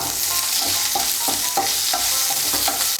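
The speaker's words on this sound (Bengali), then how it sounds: "করলাটা আমার ভাজা হয়ে গিয়েছে," Sliced bitter gourd frying in oil with a little salt, a steady dense sizzle running throughout with periodic scraping stirs, close and loud, no talking.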